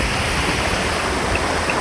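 A mountain stream rushes over a small built dam in a steady, loud, close wash of water that fills the clip, with no voices.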